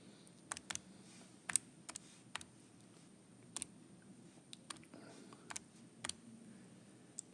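Keys are tapped on a calculator or computer keypad while numbers are entered, a sparse run of quiet, close clicks spaced irregularly over a faint background hush.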